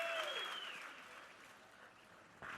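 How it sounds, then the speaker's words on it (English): Applause from a fight-night crowd in Portland, Maine, after a three-round bout, starting loud with a fading whistle, thinning to a steady patter, then swelling briefly again at the end. "how about a round of applause for both of these warriors going 3 hard-fought rounds tonight"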